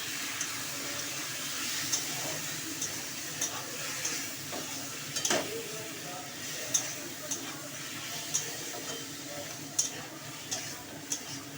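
Food frying in a pan while it is stirred: a steady hissing sizzle continues throughout, with light, irregular taps and scrapes of the utensil rising above it every second or so.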